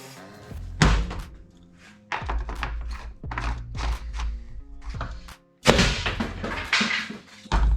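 A 3D printed dart launcher fires with loud, sharp thunks, several heavy impacts in irregular bursts separated by short near-silent gaps, close by.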